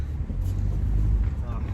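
A 2002 Mitsubishi Lancer drives around the block, heard from inside as a steady low engine and road rumble with wind noise and no distinct events, while a person talks over it.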